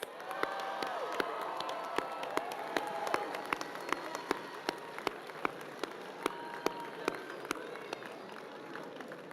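A crowd at a 2023 high school graduation ceremony applauds the graduates, steady dense clapping and some cheering sustained throughout, with sharp regular clicks standing out above the wash and faint voices underneath.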